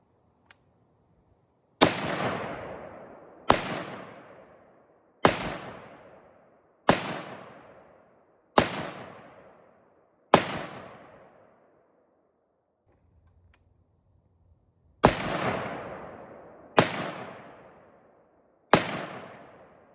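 Gunshots from an H&R XM177e2 carbine by Palmetto State Armory fired at a 30-yard range: eleven loud, sharp cracks, each with a decaying tail, spaced about every one and a half seconds, with a short pause before the final three.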